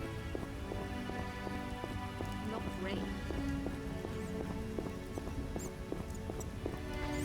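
Steady rain falls in The Witcher video game, a dense continuous hiss of drops on surfaces running throughout, with faint hoof-like clip-clop ticks repeating beneath it.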